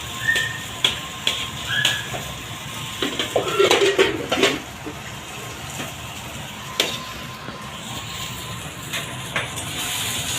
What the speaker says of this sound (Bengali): ঢেঁড়স তুলছে